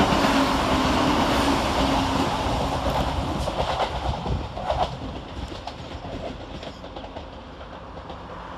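Passenger train 17429 passes North Queensferry station near the Forth Rail Bridge in a loud, sustained rumble with rhythmic wheel clatter that slowly fades, with birds calling faintly in the background.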